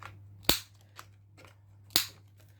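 Scissors snipping the corners off paper cards: two crisp, sharp cuts about a second and a half apart, with a faint softer snip between, close and clear over a low steady hum.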